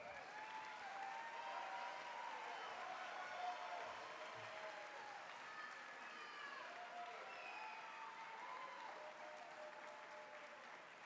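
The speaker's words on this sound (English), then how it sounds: "Give them a round of applause" An audience at a reunion event applauds the reunion co-chairs with dense, sustained clapping that holds steady and fairly soft for several seconds before tapering slightly.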